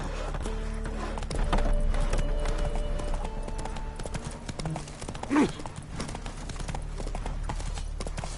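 Roach the horse gallops in The Witcher 3: Wild Hunt, a steady run of hoofbeat clip-clop under game music, with a brief whinny partway through.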